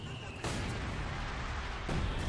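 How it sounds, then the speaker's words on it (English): An artillery barrage in the real-time strategy game Company of Heroes 2: two heavy booming blasts land over a continuous rumbling battlefield din. "Looks like there's artillery barrage by the artillery player."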